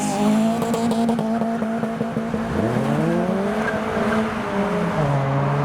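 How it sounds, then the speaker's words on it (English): A Peugeot 206 GTI and a Mark IV Mazda MX-5 leaving a car show rev loudly and launch, their engine notes climbing steeply in pitch as they pull away, with steady loud roar throughout. "We've got revolutions from the 206 GTI and the Mark IV MX-5 next up. The wheels are brave and the send is imminent."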